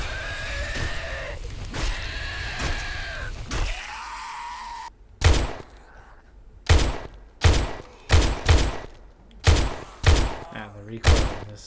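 Video game gun with heavy recoil firing a string of about eight loud, sharp shots at uneven intervals, following an earlier stretch of whinnying, groaning game noise.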